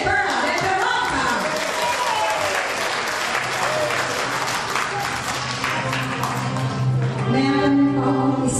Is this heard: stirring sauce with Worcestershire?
no